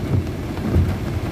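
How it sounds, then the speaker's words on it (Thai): Heavy rain pouring down beside a canal during a fishing trip, a dense, loud, unbroken roar of drops with no voices. "ฝนตกนะครับก็หลบก่อนนะครับ"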